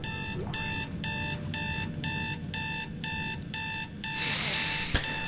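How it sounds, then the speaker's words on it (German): In the video game Dead Space 2, an alarm clock rings with a loud, rapid, regular electronic beeping pulse that repeats through the whole stretch, with game sounds beneath. "Das ist ein dreckiger Wecker."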